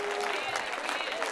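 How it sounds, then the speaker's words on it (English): Brief burst of church congregation clapping during a live holy convocation service, dense and steady for about a second, with a sustained tone and voices mixed in beneath. "clap your hands and praise the Lord"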